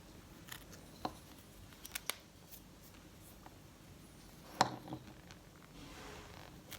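Scissors snip through a leather armband during bracelet making, a few sharp isolated cuts and clicks spread across a quiet room, with a stronger snip near the middle.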